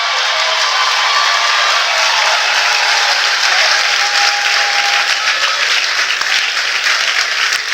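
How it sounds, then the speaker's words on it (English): A standing congregation at a church gathering applauds, a loud, dense and sustained wash of clapping with light cheering mixed in that holds evenly for nearly eight seconds. "If you want to stand up and have applause, do that."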